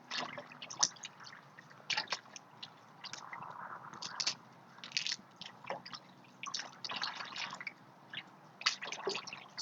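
Water rinses soil off freshly divided perennial plant roots, with close, irregular splashing, dripping and squishy trickling throughout, fairly quiet and steady with no talking.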